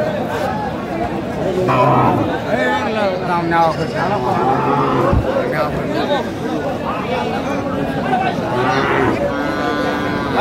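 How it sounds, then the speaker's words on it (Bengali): Cattle low repeatedly at a busy cattle market where thin dairy cows are being sold, with several nearby moos over a constant crowd chatter and people talking. "শুকনো হাড্ডি সার গাভী গরু যেখানে বাচ্চা কেনা হচ্ছে"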